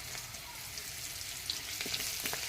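Chopped onion with black cumin frying in hot oil, a steady soft sizzle with a few light crackles and pops, close and continuous throughout.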